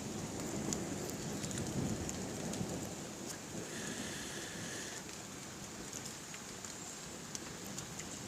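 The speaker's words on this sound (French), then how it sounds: "Allez, on regarde l'orage." Steady Mediterranean thunderstorm rain pouring down in Carpentras, France, a continuous broadband hiss of heavy drops on surfaces with faint, distant rumbles and no voices.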